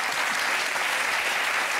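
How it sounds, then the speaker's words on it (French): Studio audience applause on a French television talk show, a dense, even wash of many hands clapping at once, sustained and fairly loud throughout with no voices over it. "Donc, je voudrais qu'on l'applaudisse."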